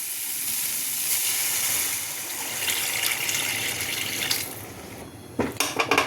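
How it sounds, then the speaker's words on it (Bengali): Water pours into a pan of cooked-down curry masala with a steady broad rush and faint sizzle, ending in a few splashy bursts near the close, with no talk. "এবার আমি জল দিয়ে দেবো।"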